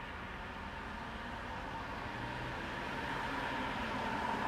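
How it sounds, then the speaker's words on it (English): Broadband road noise rushes in through a lowered window of a 2021 Tesla Model 3 Long Range, a steady wind-and-tire hiss that builds slightly louder toward the end, with no voices. "If I drop them down now, you'll be able to hear the road noise outside"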